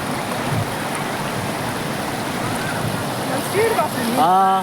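Floodwater rushing fast through a flooded village after heavy rain, a steady broad roar of flowing water up close, with a brief voice and some tonal sounds near the end.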